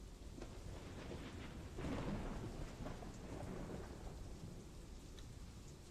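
Steady rain hisses with a low rumble of thunder swelling in the middle, part of a storm in the video game Conan Exiles, faint and continuous throughout.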